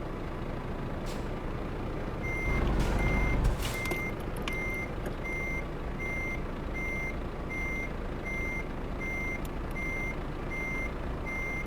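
A truck in Euro Truck Simulator 2 sounds a steady reversing beep, a clear regular pulse that repeats all the way through. A low engine rumble runs underneath, and a brief hiss like an air brake comes in early on.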